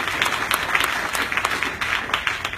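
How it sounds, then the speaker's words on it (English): An audience at an HLPF 2016 conference panel applauds with steady, dense clapping throughout, close and even. "I'm going to start by saying, let's give Sanjeev another round of applause"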